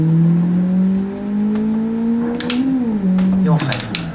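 Car engine in the Live for Speed racing game accelerating at full throttle, a loud steady drone rising in pitch through the gears, with a couple of brief clicks near the end.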